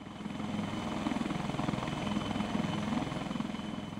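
An HAL Dhruv helicopter flies past with a steady, rhythmic rotor thump and engine drone at moderate distance, the beat swelling slightly and holding throughout without speech.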